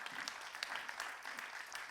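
Audience applause for a speaker being introduced at a public meeting, a steady dense wash of clapping from a room of people lasting the whole moment, moderately loud and unbroken.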